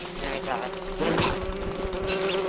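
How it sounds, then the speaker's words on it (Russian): Red bees in the video game Don't Starve, a dense continuous insect buzz that swells and fades as the swarm moves around, steady and fairly loud with no talk over it. "О, вот они, красные пчелы"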